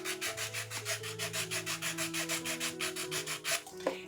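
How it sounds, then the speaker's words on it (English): A sanding block rubs back and forth over the painted plastic base of a garden mushroom, a steady rapid rhythm of about five strokes per second, close and fairly quiet, with no voices. "sand until you can see the plastic"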